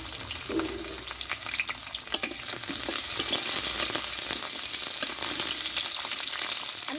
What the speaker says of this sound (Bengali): এখানে নিয়েছি দুটো মিডিয়াম সাইজের টমেটো আর আদা ওটা আমি একটু তেলে ভেজে নেব